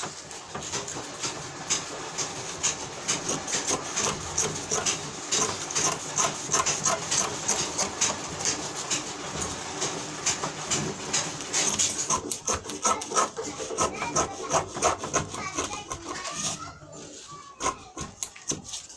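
Scissors cutting out fabric pieces for a slanting basket gown with basket neck and sleeves, giving a steady run of close rustling snips and fabric rubs through most of the clip, thinning toward the end.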